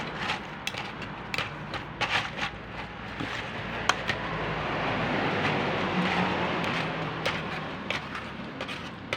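A homemade ice cream maker churns with a steady mechanical whir, overlaid by irregular clicks and scraping knocks as the mixture is worked and scraped from the sides of the pot.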